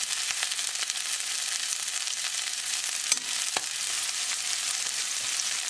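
Wild-caught Argentine red shrimp sizzle loudly in a hot pan, a dense close hiss with occasional sharper pops and crackles, no one talking.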